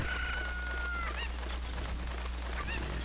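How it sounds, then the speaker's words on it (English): A chicken in Zelda: Ocarina of Time gives a few squawking cries over steady game background noise, with no talk. "Shut up, chicken."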